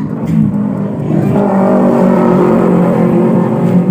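A Yamaha Byson motorcycle engine that had trouble starting, with a wet spark plug, now running with a loud, steady, rough idle close by.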